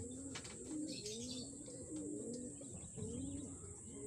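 Pigeons coo close by in repeated soft, rolling calls, with a faint steady hiss in the background.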